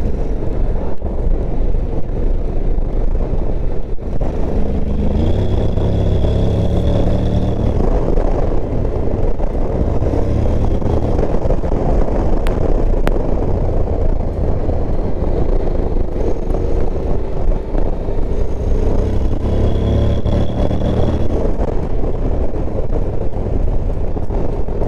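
A Honda Forza 750 scooter's engine drones continuously while riding on the road, a steady low rumble mixed with heavy wind buffeting for the whole stretch.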